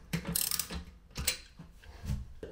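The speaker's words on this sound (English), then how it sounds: "When you retighten these bolts, you want to make sure you use even pressure." Bolts on a porcelain toilet tank being tightened by hand, giving a few close, quiet mechanical clicks and scrapes in short bursts with brief pauses between them.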